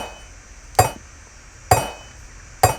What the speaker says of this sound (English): To keep it simple, I found 1 snare hit